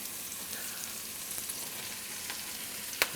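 Onion goes into a pan with peppers charred for about ten minutes for shakshuka, producing a soft, even sizzle that ends in one sharp clack of a utensil.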